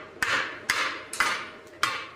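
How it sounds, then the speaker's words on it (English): A hammer gives four light, sharp metallic taps, evenly spaced and close, knocking dross off the edge of plasma-cut steel; each tap rings briefly. "Just a couple light taps with your hammer, it's gone."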